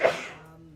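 One short, sharp sneeze rings out in a meeting room, loud at its burst and then trailing off into the room's echo.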